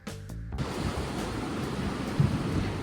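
Waves rolling onto the cold rocky coast of Maine, a steady broad roar of surf with a brief swell and crash near the end, preceded by a short quieter moment at the start.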